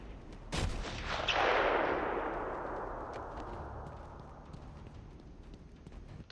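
Sniper rifle shots in the Batman Arkham Asylum video game: a sharp, loud blast followed by a long rumbling, swooshing decay that fades slowly.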